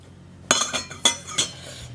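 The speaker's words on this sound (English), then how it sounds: "we're going to add 100 grams of white rice" Long grain white rice pours into a glass jar in three quick clinking, rattling bursts, close and fairly loud with short pauses between, and no voices.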